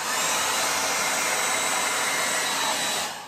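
A hair dryer blows with a loud, steady whooshing roar close by during acrylic pour painting, then begins to fade at the very end.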